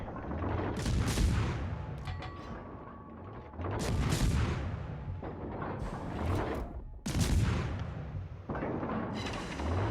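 Heavy naval guns of the cruiser Atlanta fire in a video game battle, several deep booming salvos with rumbling tails, spaced irregularly over continuous low background noise.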